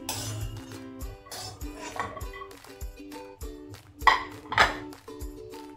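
Metal pan and plate clinks as ghee-roasted cashews are scraped out onto a plate in a home kitchen while making dry fruit ladoos, a run of sharp pings and clatters, with two louder clanks near the end.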